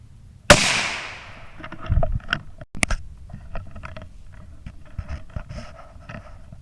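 A single sharp gunshot from a .17 HM2 rifle cracks loudly during a morning squirrel hunt in the woods, followed by a decaying echo and quiet rustling, clicks and a dog panting.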